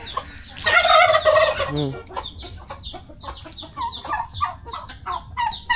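A turkey gobbles loudly, a rattling burst followed by a run of quick, choppy calls and clucks from nearby fowl.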